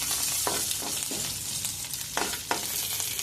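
Tempering sizzling in a small amount of oil in the pan for bottle gourd chutney with green chillies, a loud, constant close crackle with a few spoon scrapes and taps.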